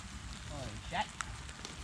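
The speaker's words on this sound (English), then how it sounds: "It's really coming down, guys. The rain." Heavy rain falling steadily at a bushcraft camp shelter, a dense continuous hiss close by with a few brief squeaks and taps on top.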